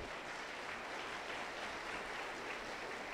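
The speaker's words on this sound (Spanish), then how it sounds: "A darle un contento aplauso para el Señor Jesús." A Pentecostal church congregation applauds in a dense, even wash of clapping, fairly distant and steady throughout with no clear speech.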